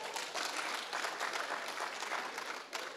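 Church congregation applauding, a dense, steady wash of clapping that fills the space for the whole stretch without pause.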